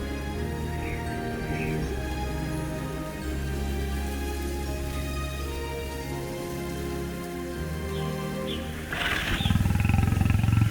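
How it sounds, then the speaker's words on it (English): Lion roaring in African savanna and woodland country during the rainy season, a low rumbling call rising over steady rain, turning louder and harsher near the end. "a symbol of pride and power continues to endure: the lion"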